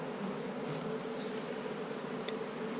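Honey bees hum around a comb in a hive, a steady close drone of many wings layered together, even and continuous with no voices.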